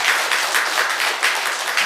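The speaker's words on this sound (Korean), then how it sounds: "우리 뒤에서 우리를 설교를 돕고 도와주는 우리 방송실에 우리 박수 한번 하면 어떨까요?" A church congregation claps for the broadcast team during a morning service, a loud, dense burst of applause from many hands, close and sustained.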